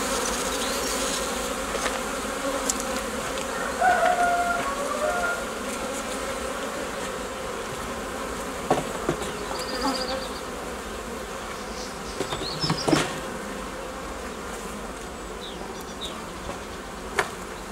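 Honeybees buzz steadily around an open hive nucleus during spring frame work, a dense, continuous close drone with occasional louder individual bees passing by, no talking.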